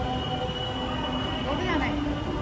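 Mumbai Metro train running on its line toward Saki Naka, a steady broadband rumble with faint wheel squeal, heard continuously from on or near the train, with some background voices mixed in.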